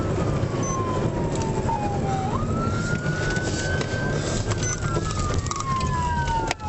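A police siren wails and sweeps in pitch over a steady rumble of traffic, fairly loud and continuous.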